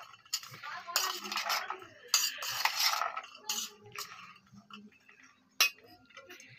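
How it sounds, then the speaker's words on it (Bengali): A spoon stirs a chickpea snack with black salt in a metal bowl, producing repeated close scraping and clinking bursts with short pauses and one sharp clink near the end. "এগুলো দিয়ে আমি একবার মিক্স করছি"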